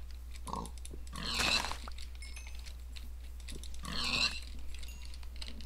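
Pigs in a video game give two short bursts of oinks and grunts a few seconds apart, over a steady low hum with faint clicking between them.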